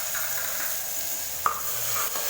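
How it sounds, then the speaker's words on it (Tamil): Tomato paste and onion masala sauté in a pan for a mutton gravy, a steady soft sizzle with light stirring and one brief clink of a utensil against the pan. "சேர்த்துட்டு நல்லா மிக்ஸ் பண்ணி தக்காளி பழத்தை நல்லா வதக்கி விட்டுக்கலாம்"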